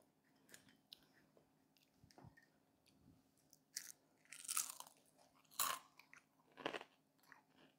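Crisp crunches as teeth bite into a fried crab and cheese wonton, several separate bites spread across the clip, each a sharp close crackle, with quieter chewing between them and no talk.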